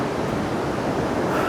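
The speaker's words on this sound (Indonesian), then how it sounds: "Suara ombak sudah terdengar mulai kencang karena di sebelah lereng kanan saya merupakan pantai selatan." Ocean waves on the south coast of East Java: a continuous, fairly loud wash of surf with mixed wind noise, no break across the short stretch.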